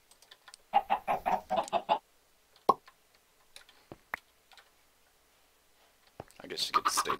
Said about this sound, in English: Oh, baby chicken can escape through that.